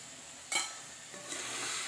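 Ground masala being stirred into gooseberry pickle in a pan: a soft hiss and sizzle with a sharp scrape of a spoon against the pan, then quieter stirring, faint and close, without speech.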